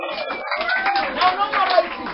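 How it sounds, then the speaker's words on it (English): Students in a maths classroom at a Nairobi academy clap together in quick, rhythmic bursts for about two seconds, with voices talking over the clapping. "Can you clap for yourself?"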